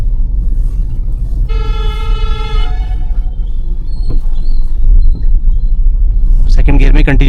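A car engine rumbles heavily while climbing a steep, narrow city road during a change from third to second gear. The drone is loud and constant, a horn toots briefly partway through, and a voice speaks near the end.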